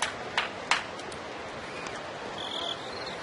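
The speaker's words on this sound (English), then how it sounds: "The Crickets are sounding nice tonight." Crickets chirp faintly at night outdoors, a thin, high trill rising in the background late on, with a few soft clicks and low ambient noise.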